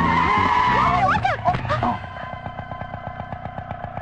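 A sudden hard brake with tyres skidding, a loud screech sweeping up and down near the start, then a rapid rattling pulse as the vehicle shudders to a stop, with voices around it.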